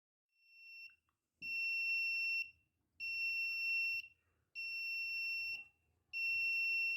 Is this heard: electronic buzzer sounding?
yes